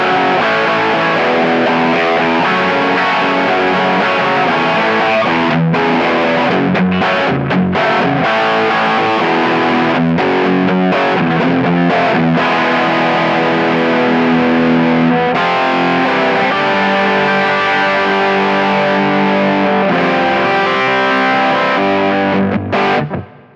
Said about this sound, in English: So that's my heaviest tone there, my heaviest distortion tone.